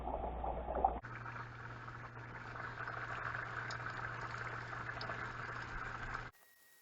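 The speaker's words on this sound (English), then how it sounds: "Take your chicken, put the first bit into the oil, and then gently drop it away from you." Chicken pieces frying in hot oil for Nashville hot chicken, a steady close bubbling sizzle that starts abruptly after a brief splash and runs evenly for several seconds before cutting off, with no talking.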